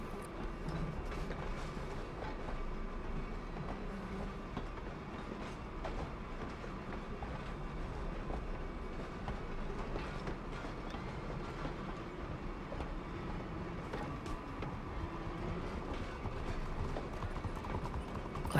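A tram rolls through Saint Denis in a video game roleplay, giving a steady low rumble with regular clip-clop and clacking beats. It sounds continuous and moderately distant, with no talk over it.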